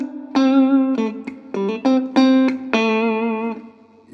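Clean electric guitar notes and short phrases ring out with a roomy reverb tail, sustained tones decaying smoothly between picked attacks.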